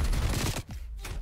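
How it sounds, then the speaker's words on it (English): Sustained gunfire in Call of Duty: Black Ops Cold War, a dense, loud burst of rapid shots for about half a second, then a brief dip and more scattered shots, with no talk. "Ah! Oh, got shot from behind."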